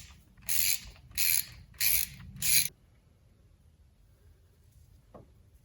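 A ratchet clicks through four short bursts of rapid pawl ratcheting as it turns the 17mm belt tensioner on a Mercedes ML55 AMG, close and loud, then quiet with one faint tap.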